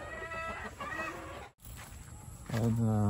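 Chickens cluck close by in a farmyard, a steady busy murmur of fowl with a brief dip midway and a louder burst of calls near the end.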